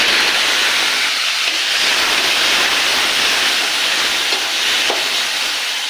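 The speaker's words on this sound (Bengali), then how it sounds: "এটাকে ভেজে নেব। আলুটাকে ভেজে নিয়েছি।" Long potato strips deep-fry in oil in a wok, giving a loud, dense, continuous hiss that holds steady from start to finish. No voices are heard.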